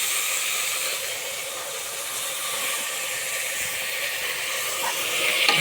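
Finely chopped tomatoes frying in a pan for chicken curry produce a continuous, fairly loud steamy hiss and sizzle, rising slightly near the end.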